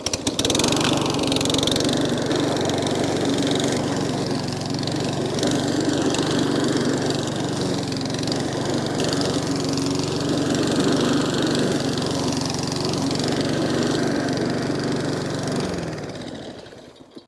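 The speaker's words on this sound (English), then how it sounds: "The mower started really easily and it's cutting the grass really well." A second-hand lawn mower engine runs steadily at a constant pitch with a droning hum while cutting grass, then cuts out at the very end.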